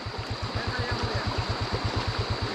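A motorcycle engine idles with a steady, rapid chugging pulse, fairly close, running on its own without voices.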